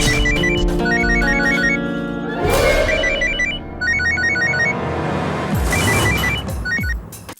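A telephone bell rings in repeated bursts of double trills, loud and close, with music or background sound running underneath throughout.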